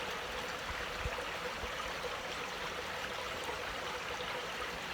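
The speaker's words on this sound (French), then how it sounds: "près d'une rivière" River water flows steadily in a dense, continuous broadband rush, close and even throughout, with no voices.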